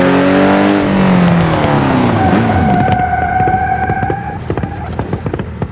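A Porsche in a brake test: a loud, close engine roar sweeps down in pitch as the car slows, then a steady tonal whine and scattered clicks and thumps continue to the end.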